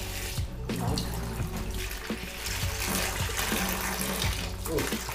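Tap water runs in a strong, steady stream during homebrewing of a Brut IPA, a continuous rushing flow with a few clinks and faint talk underneath.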